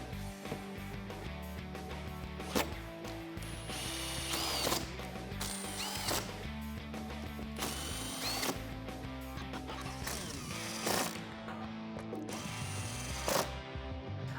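A ratchet with a 13mm socket tightens bolts on a Barricade HD rear bumper being fitted to a Jeep Wrangler JL, giving close bursts of rapid clicking separated by brief pauses, with no voices.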